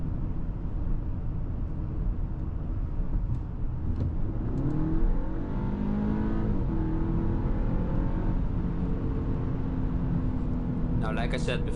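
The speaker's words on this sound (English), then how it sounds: "the engine sound is nice. It's not loud or overwhelming, but it gives you that satisfying hum" A 2024 Audi A6 S Line 204 HP engine hums steadily while driving, its pitch sweeping up and down with the revs under road noise, and a voice briefly at the end.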